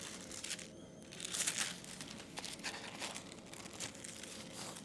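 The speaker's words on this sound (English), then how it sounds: "regular tissue paper, regular Louis Vuitton white tissue paper." Louis Vuitton white tissue paper crinkles and rustles steadily for about five seconds, close to the mic, with a brief sharper tearing crackle partway through.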